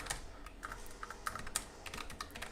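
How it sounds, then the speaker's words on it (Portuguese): Quiet typing on a computer keyboard beside a Boox Mira e-ink monitor, light irregular key clicks in quick succession, close and soft, with no talk. "um teste aqui de digitação, é bem responsivo"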